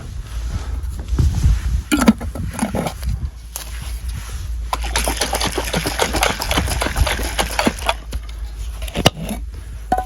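Water sloshes and splashes inside a glass jar being rinsed in repeated bursts, with rattling and knocking of glass, close up.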